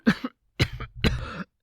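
A man coughs three times in quick succession, harsh throaty bursts with short pauses between, the last one longer and rougher, close and clear with no other sound.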